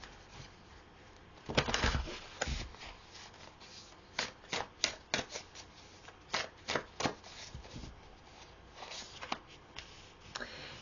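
Tarot cards are shuffled by hand in a series of soft riffles and sharp flicks, some quick and clustered, others spaced apart, fairly close and quiet with no talking.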